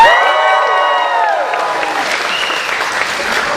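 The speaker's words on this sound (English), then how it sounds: "Some mild applause." Mild applause from a Star Wars Weekends 2013 convention audience, a short burst of clapping that fades quickly, mixed with voices as a speaker's amplified words trail off over it.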